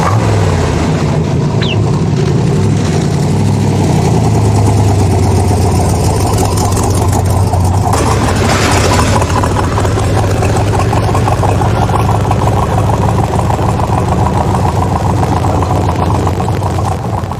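A Corvette at a Carlisle car show runs with a loud, steady engine drone and deep exhaust rumble through its mufflers, holding a constant idle-like note throughout, close and dominant.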